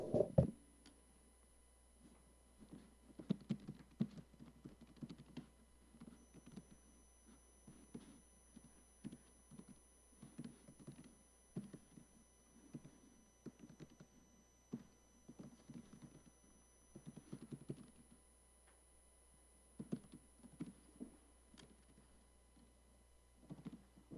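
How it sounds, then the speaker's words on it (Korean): Typing on a computer keyboard during a live online ChatGPT training session, heard as irregular bursts of faint key clicks with short pauses between them. The sound is quiet against a low steady hum, and no one speaks. "라이브 생방송이다 보니까 타자가 잘 안 나가네요"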